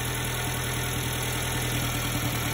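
A Subaru Sambar engine idles steadily during carburetor and distributor timing adjustment, a close, loud, even mechanical drone with a slight rhythmic pulse and no voices.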